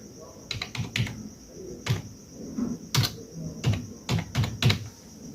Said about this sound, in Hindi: यहाँ पर पासवर्ड टाइप करते हैं मेन राउटर का